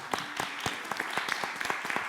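A small audience clapping at a talk about comic book superheroes, a short burst of scattered individual claps that sound near and fairly light.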